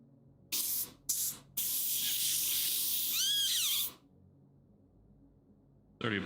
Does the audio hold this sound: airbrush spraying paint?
yes